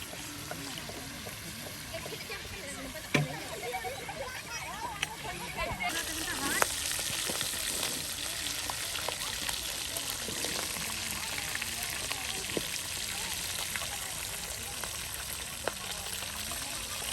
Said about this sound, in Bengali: মাছগুলো কিন্তু এখন বেশ সময় নিয়ে একদম তেলে চুবু চুবু করে আস্তে ধীরে কিন্তু একদম ভেজে নেওয়া হচ্ছে